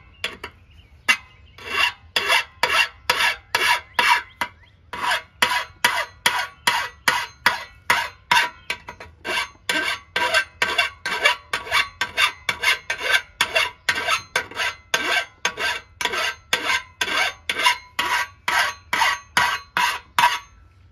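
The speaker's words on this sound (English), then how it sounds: "notice I'm going one way with the file and not back and forth" A hand file removing burrs from an exhaust fitting on a 2006 Chevy Silverado 1500, with dozens of close, regular rasping strokes, each a short one-direction scrape separated by brief pauses, and no talk.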